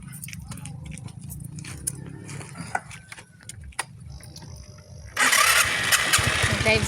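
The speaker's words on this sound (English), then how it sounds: "I'm going to drive down very slowly and let Mia just photograph the road going down" A vehicle engine turns over and comes to life partway through, then runs loud and steady close by on a slow drive down a road, after a quieter stretch of faint rustling and background noise.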